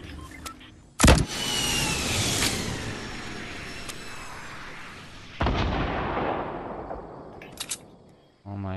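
Video game gunfire in a solo battle-royale match: a sharp nearby shot, a long rolling echo, a second heavy blast, then a quick pair of lighter shots, with no talking.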